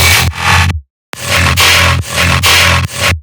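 Loud chopped bass loop from a MUERTE sample pack for a tearout remix, heavy gritty bass stabs in short bursts, with a brief gap of silence near the start before the chopped hits continue.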